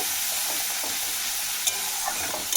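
A spice masala thinned with a splash of water fries and is stirred in a pan, giving a steady, close, loud sizzling hiss with faint scraping throughout.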